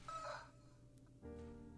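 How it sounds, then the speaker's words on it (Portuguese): Roosters crowing in the survival roguelike tower defense video game Outpost, two short cock-a-doodle-doo calls in quick succession over steady in-game background noise, fairly faint. "Aparentemente estão vindo galos agora, né? Porque o barulho é diferente."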